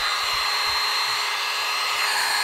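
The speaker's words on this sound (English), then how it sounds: "you got the blower ready" An electric blower runs steadily, inflating an inflatable T-Rex costume; a continuous, even rushing whoosh of air stays loud and unbroken throughout, with no talk over it.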